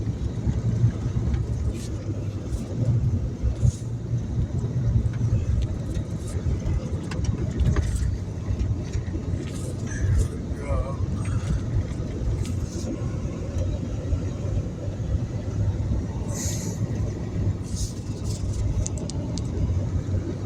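A small car grinds along a rough high-altitude mountain track, its engine a steady close rumble mixed with crunching and bumping from the trail throughout.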